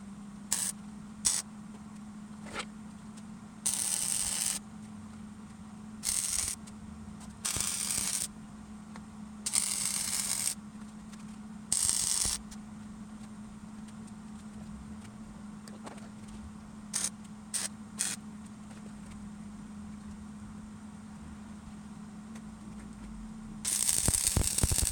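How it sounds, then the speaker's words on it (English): Angle iron is tack welded to the front bumper mounts of a Toyota 4Runner in short, crackling bursts of varying length, separated by pauses over a steady electrical hum. "So now on to the welding."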